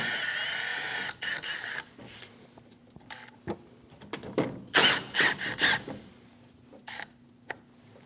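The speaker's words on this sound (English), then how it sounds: "That noise right there was the vacuum that the machine pulled when they evacuated the refrigerant." Vacuum releasing as an AC line is twisted and pulled off the receiver dryer of a 2016 Scion iA, heard as a brief hiss among clicks and clunks of handling, close by with quiet gaps between.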